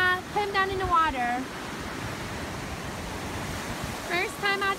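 Ocean waves at a beach roll in as a continuous, moderately loud wash of surf, with people's and a baby's voices rising over it at the start and again near the end.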